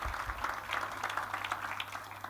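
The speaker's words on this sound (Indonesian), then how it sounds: "Tepuk tangannya, boleh yang paling meriah buat Tuhan kita." A church congregation applauds through the whole stretch, a soft, dense patter of many hands clapping at a moderate distance with a faint low hum beneath.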